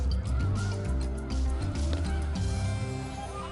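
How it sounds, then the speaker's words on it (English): Snow geese stopping in Delta, Utah during their northward spring migration: a dense, continuous chorus of many honking birds, loud and close, with no voices. "come celebrate the retreat of winter with thousands of snow geese as they stop in Delta, Utah on their migration north"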